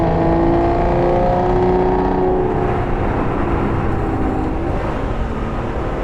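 Aston Martin V12 Rapide S with its 5.9-liter V12 accelerating, a loud, smooth engine roar heard from inside the car that rises and holds with a steady droning tone.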